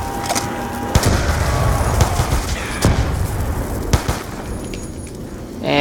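Gunfire from Black Ops II Zombies mode: repeated sharp shots and bursts of rapid fire over game noise and rumble, ending in a rising electronic tone.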